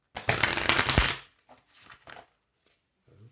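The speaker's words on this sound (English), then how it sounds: "Shuffle up a little bit more here." A quick riffle of cards fluttering together, close and crisp, followed by a few softer taps and shuffles as the deck is squared.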